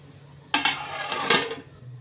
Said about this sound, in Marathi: हे आता मी ह्याच्यावरती झाकण ठेवते